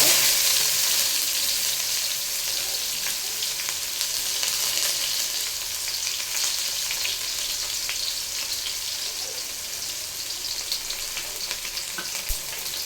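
Chopped onion and cumin seeds fry in hot oil for a Kannada-style curd sambar, giving a steady, close hiss of sizzling that lasts throughout with small crackles and no voices.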